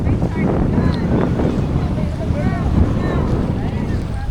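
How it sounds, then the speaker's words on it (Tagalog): Strong, steady wind roars and buffets the microphone throughout at Bulabog Beach, Boracay, with faint voices and surf underneath. "Pero ang lakas ng hangin."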